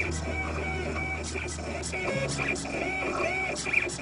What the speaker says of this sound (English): The EGX 360 will perform precise engraving along the curved inside surface of the ring.